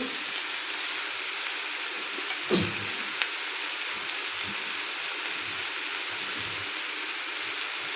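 Ground turmeric and spices fry with onion and garlic in a pan, a steady soft sizzle with a couple of brief clinks of stirring partway through.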